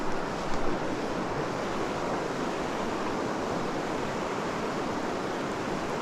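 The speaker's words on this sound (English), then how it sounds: "Some broken up choppy water like this that the fish are gonna feel safe in." Broken, choppy river water rushes steadily in winter steelhead country, a loud, unbroken roar of flowing current with some wind noise on the microphone.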